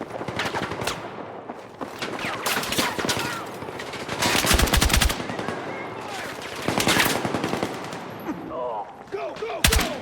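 Machine gun fire in the video game Battlefield 6, rapid bursts of automatic shots loud and close, repeating in clusters with echoing impacts and a faint shout in between.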